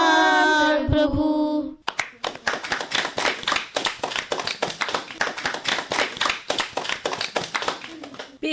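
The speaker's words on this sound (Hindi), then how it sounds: "और ये जो तालियां बज रही हैं ना बच्चों" After a sung line from children at a school performance, an audience breaks into sustained, rhythmic clapping, many hands striking together in a steady, lively beat that fills the room until the end.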